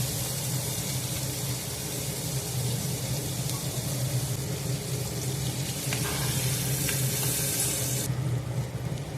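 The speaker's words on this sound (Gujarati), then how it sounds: "તેમાં રાઈ, જીરું, હિંગ ઉમેરી તેનો વઘાર કરીશું આપણે" Mustard seeds, cumin and asafoetida sizzle and crackle in hot oil in a steady, close hiss that runs throughout, with a faint clink near the end.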